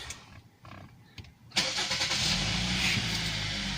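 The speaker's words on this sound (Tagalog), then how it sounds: "Paandarin natin guys para malaman ninyo na umandar na to guys." A Hyundai Sonata that had a no-crank, no-start fault after a crash: a brief starter crank, then the engine catches and settles into a steady, fairly loud idle close by.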